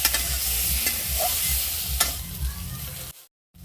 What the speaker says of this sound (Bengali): এগুলো ভালোভাবে ভেজে নেব।